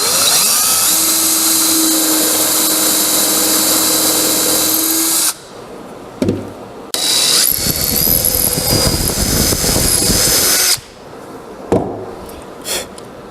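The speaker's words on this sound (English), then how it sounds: "being real careful to drill that because I'm putting these real long screws in." A power drill whines loudly through wood for a cedar camping table, two long sustained bursts separated by short pauses, with brief clatter and quieter handling sounds between.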